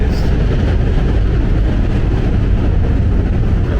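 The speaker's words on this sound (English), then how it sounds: "it's either a B or a D train heading towards Brooklyn." A B or D subway train crosses the Manhattan Bridge toward Brooklyn overhead, heard from below in Dumbo as a loud, steady, deep rumble that fills the whole stretch without letting up.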